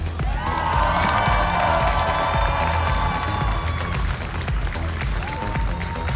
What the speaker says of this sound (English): oh, the crowd, you hear that? That's a lot of cheering